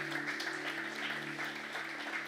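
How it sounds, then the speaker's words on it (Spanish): A church congregation claps at a Spanish-language sermon service, a steady, moderate patter of many hands heard from a distance over a constant low hum. "Vamos a dar un aplauso a Jesús."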